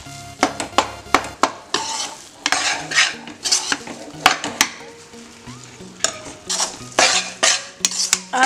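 Wheat flour roasts in ghee while a spoon stirs and scrapes it hard around a metal pan, producing loud, irregular clanks and scrapes over a low, steady sizzle, close up with no voices.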